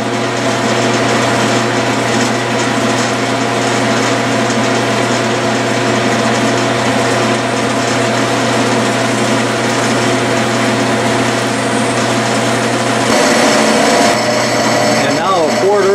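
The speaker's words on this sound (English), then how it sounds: "we'll center drill it with this great big center drill" Steady lathe drone with a low hum and grinding whir as a large center drill bores hexagon stock, continuous throughout, shifting slightly near the end as the cutting changes.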